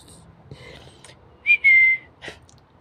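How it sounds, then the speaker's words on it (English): A pet rainbow lorikeet gives a couple of clear, sustained high whistles in close succession, near and fairly loud, with a faint breathy call afterward and quiet room noise between. "You got such a beautiful whistle."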